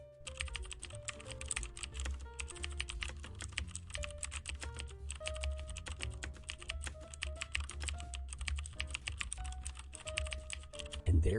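Rapid, continuous keystrokes on a computer keyboard while code is entered, with dense irregular clicking throughout, and soft background music underneath.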